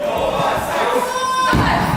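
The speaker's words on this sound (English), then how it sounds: "Hear what the crowd think of Leo Nova here" A crowd at an independent wrestling event roars and jeers in a steady, loud wall of voices for two seconds. The noise swells slightly near the end.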